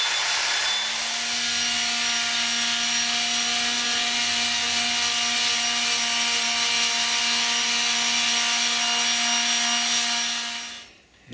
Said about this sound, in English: Now, the sanding is the next process, sand it to shape.